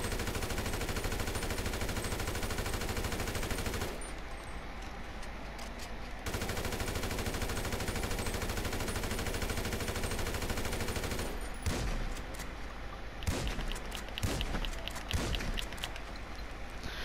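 Gunfire in the video game GTA 5, rapid automatic bursts repeating steadily and fairly faint, broken by short pauses and a few sharper single shots near the end.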